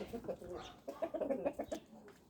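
Chickens in a backyard coop enclosure fenced off from the roosters give a quick run of soft, close clucks and short calls in a quiet setting.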